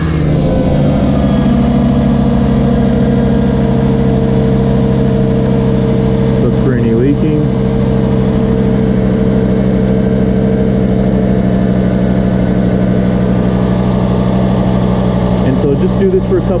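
A car engine idles steadily after an oil change, a loud, even low hum with a constant tone that barely changes, plus a faint brief chirp midway.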